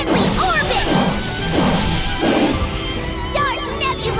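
Eternal Sonata's Deadly Orbit special attack lands in a loud run of repeated crashing impacts and whooshes, with game music and effects throughout and no speech.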